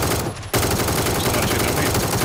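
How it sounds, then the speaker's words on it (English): Loud, dense bursts of automatic gunfire from PUBG: Battlegrounds, rapid cracks filling the clip after a brief half-second lull, close and continuous. "Someone shooting at me."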